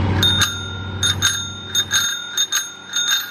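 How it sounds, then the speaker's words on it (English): A small bicycle bell rings in quick repeated dings, bright and close, in several short clusters. "What I can do is put on my new little bell."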